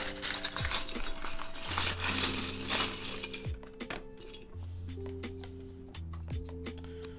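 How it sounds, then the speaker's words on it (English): Plastic keycaps for an HHKB keyboard build clink and rattle up close in a few light handfuls, with small clicks and clatter over a faint steady background tone. "Let's grab our keycaps."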